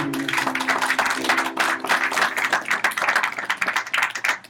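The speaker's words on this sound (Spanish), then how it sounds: "Denle un fuerte aplauso al Señor" A church congregation applauding steadily, dense clapping that fills the space and holds throughout.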